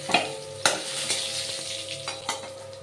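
Whole cumin seeds, dried chili, bay leaf, cardamom and cinnamon sizzle as they temper in hot oil, a steady close crackle broken by several sharp pops and spatters, with no voices.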